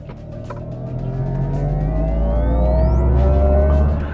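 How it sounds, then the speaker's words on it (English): A Mercedes-AMG EQS 53 electric car with the Dynamic Plus package accelerates hard while its synthetic performance sound plays: a loud, steady electronic drone with a whistling tone that climbs in pitch, and no talking. "if you have the Dynamic Plus package upgrade, then you get a special performance sound, which is the same but more"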